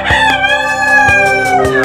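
A caged rooster on a sixth-floor rooftop chicken farm in Dhaka gives one long, loud, drawn-out crow close by, with a few faint clicks under it.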